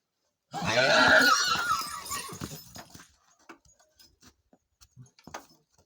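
A loud, close horse whinny lasting about two seconds, trailing into snorts as a mare meets another horse, followed by scattered hoof clops and shuffling.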